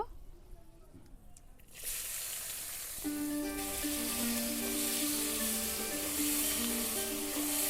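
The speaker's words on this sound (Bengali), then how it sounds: "ভালো করে পেঁয়াজগুলোকে ভেজে নেব" Sliced onions frying in a wok-style kadai with black cumin, dried red chillies and bay leaf in oil, a steady loud sizzle that swells after a quieter start and continues unbroken.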